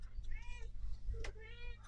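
A domestic cat meows twice indoors, close and moderately loud, over a constant low electrical hum.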